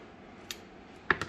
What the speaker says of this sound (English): once you've done that, cut off the extra thread or twines that you have there